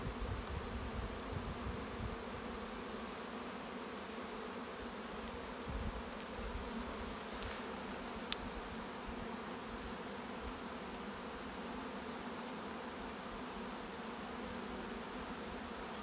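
Honey bees walk into a hive in a dense, continuous, close buzz at a fairly even level, with a single brief click partway through.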